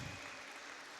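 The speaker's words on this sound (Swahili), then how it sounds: "Pigiwa makofi mazuri." A church congregation claps for a pastor stepping down from the altar, a faint, steady patter of applause heard from a distance for about a second.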